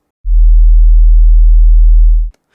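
A steady, deep 40 Hz bass tone from a model train sound decoder speaker hums continuously for about two seconds, then cuts off abruptly.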